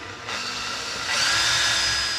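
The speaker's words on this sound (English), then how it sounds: "I drill the first hole into where I want it, and then I will sink it with this one" A power drill bores a hole while fitting a sailboat winch handle holder, a steady close whine that starts abruptly and rises in pitch and loudness partway through, heard alone.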